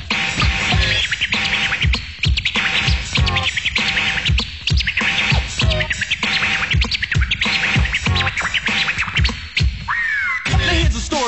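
A DJ works a vinyl record on a turntable, scratching in fast repeated bursts over a steady beat so that some strokes come out as rising, chirp-like squeaks mimicking a bird. The scratching is loud and close throughout.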